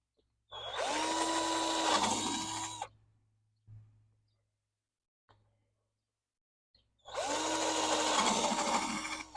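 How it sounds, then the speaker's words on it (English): A power drill whirs in two sustained bursts, close and loud, separated by a quiet pause with a couple of brief clicks. "gonna drill a couple holes here"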